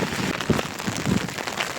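A heavy downpour in Bhavnagar, loud dense rain drumming steadily on surfaces nearby, a continuous wash of splatter with no talking.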